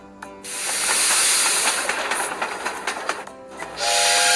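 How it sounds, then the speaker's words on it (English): A fuel pump fills a locomotive in a kids' train video game with a loud, steady hissing rush that swells in after a short tone, stutters briefly, then gives way to a bright chime. "And now we need to fuel the locomotive. Press the pump."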